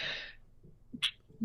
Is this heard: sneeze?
yes